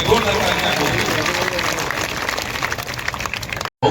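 Steady applause from a crowd fills the whole stretch, dense and sustained, cutting off abruptly near the end before resuming.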